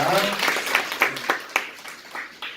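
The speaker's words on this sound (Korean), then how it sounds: "한번 박수 한번 주시겠습니다." Children and adults at a Sunday church service for elementary-school kids clap in a short round of applause, with a voice speaking over the clapping.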